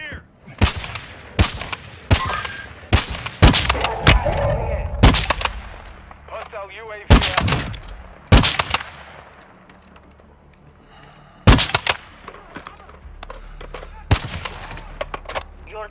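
Bursts of gunfire in the video game Warzone at a village blacksite, sharp shots and short rapid volleys spread irregularly across the scene, with players talking over the action.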